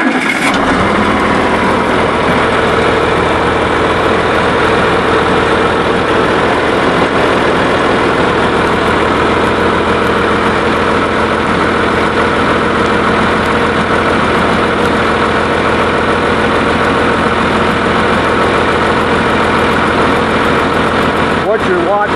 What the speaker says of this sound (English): Alright, let's crank the tractor.